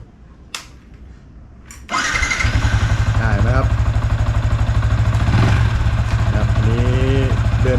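A motorcycle engine starts after a couple of clicks and settles into a loud, steady idle, with a person talking over it near the end.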